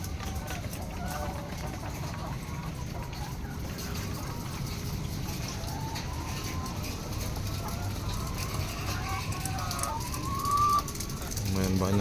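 Laying hens cluck and call inside a rooftop chicken coop, a busy flock heard over a steady wash of background noise.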